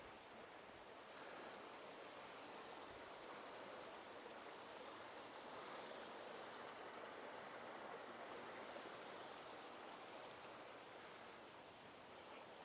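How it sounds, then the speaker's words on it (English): Cherry Creek in Parker, Colorado rushes beneath a footbridge, giving a constant broadband wash of flowing water that holds even and fairly soft throughout. "this little creek kind of runs through Parker all the way up into Denver"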